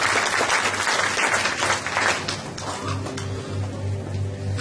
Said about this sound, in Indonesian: Tepuk tangan dulu dong untuk kita semua nih.